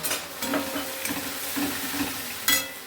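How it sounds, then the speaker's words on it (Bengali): Veg manchurian stir-fried in a pan with tomato sauce, a close sizzle broken by several spatula scrapes and knocks, brief and without speech. "টমেটো সস দিয়ে দেবো বেশি করে, দিয়ে ভালো করে কষবো"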